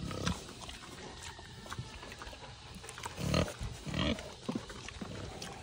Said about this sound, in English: Oh, there's big pig.